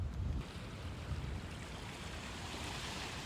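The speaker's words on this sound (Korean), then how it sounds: "인구 해수욕장과 죽도 해수욕장은 백사장이 넓고 조용한 편이고 서퍼들과 수중 다이빙을 즐기려는 관광객들이 많이 방문하는 곳입니다" Waves wash over a wide sandy beach at Ingu Beach on Korea's east coast, a continuous soft roar of surf mixed with wind buffeting the microphone, fairly faint and with no voices.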